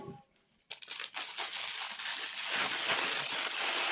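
Scissors cut through a tipless plastic piping bag for royal icing: after a short pause comes a steady, close crinkling and rustling of plastic as the blades work.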